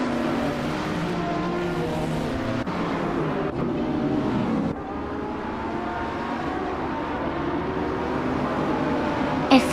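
A 2020 Lamborghini Sian FKP37 racing at Silverstone in a video game, its engine a steady, loud drone with a shifting pitch that carries on unbroken, with no talk over it.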